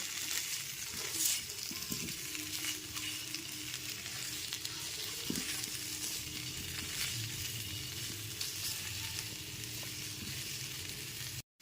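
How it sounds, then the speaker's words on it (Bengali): Potato and pumpkin pieces fry in an oiled pan for a vegetarian pumpkin dish seasoned with panch phoron, giving a steady, close crackling sizzle that holds evenly throughout with a few faint scrapes and no talking. "আলু কুমড়োটা এখানে খুব ভালো মতো ভাজা হয়ে গেছে"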